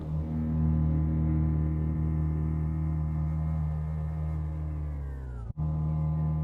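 A steady, sustained synth tone with a thick, shimmering chorus texture, holding a low drone with layered harmonics before a brief cut and resumption.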